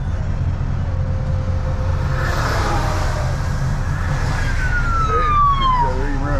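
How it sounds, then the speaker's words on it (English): An emergency vehicle siren wails and sweeps in pitch over loud, steady engine and road rumble from a heavy truck dragging dense rocks in fog, growing more prominent toward the end. "They're even running sirens."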